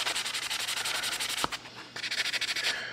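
Pocket knife blade being polished with 800 grit abrasive, a steady run of rapid back-and-forth rubbing strokes at close range, briefly pausing midway before the quick scratchy rhythm resumes.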